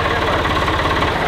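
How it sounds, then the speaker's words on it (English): A tractor engine idles steadily up close, a continuous low, knocking rumble with no other sounds. "Tractor's going, we'll let it warm up."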